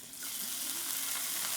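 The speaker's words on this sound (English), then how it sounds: "We're going to fry up some country ham." Country ham frying in butter in a pan, a steady broadband sizzle that swells slightly after the first moment and holds close and even throughout, with no speech.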